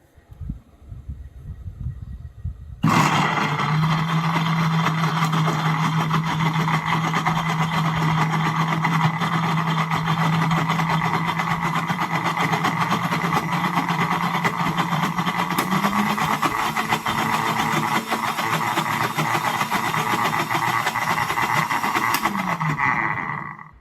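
A mixer grinder whirring chia seeds, switching on abruptly after a quiet start and then running as a loud, steady motor drone with a slight pitch shift near the end before winding down.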